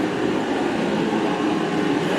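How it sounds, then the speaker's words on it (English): A heater runs in a workshop to dry out a freshly sandblasted Willys CJ3A body tub. It makes a steady, close, full-bodied roar of blowing air that holds even the whole time, with no talking over it. "You can probably hear the heater running"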